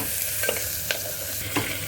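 Onions sautéing until translucent in a pan for Goan mutton xacuti, a steady soft sizzle broken by three sharp spatula scrapes against the pan, close and without any talking.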